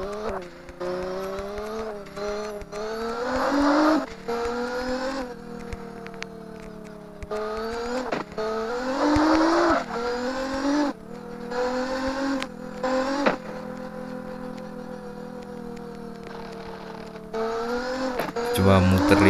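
Engine revving and tires squealing as a car drifts around a slippery circuit in the CarX Drift Racing 2 mobile game, pitch rising and falling with repeated throttle bursts, loud and continuous under someone talking.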